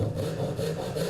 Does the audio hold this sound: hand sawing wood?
yes